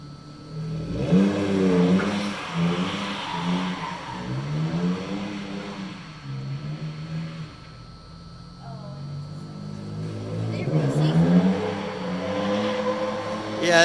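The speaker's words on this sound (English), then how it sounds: "Trying to burn their tires up." Cars rev their engines hard doing burnouts nearby, rising and falling engine whines sweeping up and down in repeated loud bursts, with occasional tire noise and people talking over it.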